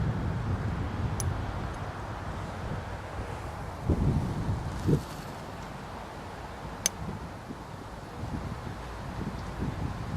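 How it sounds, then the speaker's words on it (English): Outdoor wind noise buffeting a microphone at an archery range, a steady low rumble with a few gusty swells and occasional brief knocks, fairly loud with no talking. "Wind's starting to pick up a little bit too."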